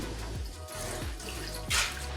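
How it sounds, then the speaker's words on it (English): Lamb stock for Irish stew pours from a container into a pan, a close, continuous liquid splashing and gurgling with a brighter burst of splashing near the end. "I'm now going to add around 850 ml of lamb stock. I'm going to pour this straight into the pan."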